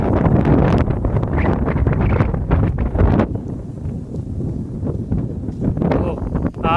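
Strong gusting wind buffets the microphone with loud, continuous broadband rumble outdoors in rainy weather, easing slightly partway through.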